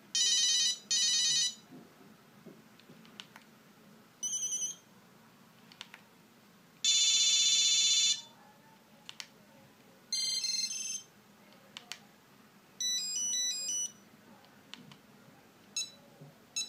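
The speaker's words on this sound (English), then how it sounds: "It has a lot of ringtones." A series of different Nokia 8250 ringtones and melodic beeps play in short bursts with brief silent gaps between them, some tonal chimes, others rapid electronic trills.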